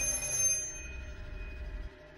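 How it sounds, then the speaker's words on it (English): A telephone rings faintly in a soundproof basement in a horror film, a thin, steady bell-like tone that fades out near the end, with no voices. "and a phone rings."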